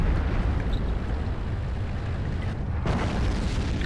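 An artillery shell detonates in World of Tanks, a deep rolling boom over a steady low rumble of battlefield noise, with a sharper burst near the end.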